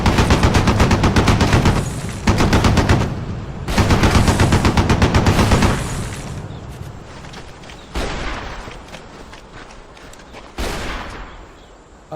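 Light machine gun fire in the Ghost Recon 2 video game: loud sustained automatic bursts, with several long volleys followed by shorter, fainter bursts and echoing gaps, and no talk.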